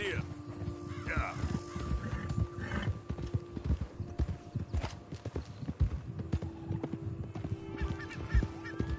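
In the Red Dead Redemption 2 game, horse hooves clip-clop in a steady walking rhythm, close and moderately loud. Honking bird calls and a brief whinny mix in now and then.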